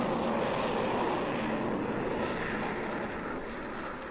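A large plane flying low overhead gives a steady, broad engine roar that fades slowly, heard alone without voices.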